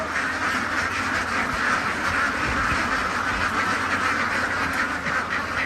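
Flock of CP Super laying ducks in Nakhu, Kalasin, quacking en masse as a loud continuous din with no pauses or voices.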